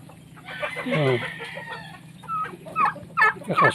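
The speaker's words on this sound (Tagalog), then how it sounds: "Kakasta yung pabo." Turkeys and free-range chickens call out close by, a gobbling warble followed by several short squawks and clucks, with faint background noise.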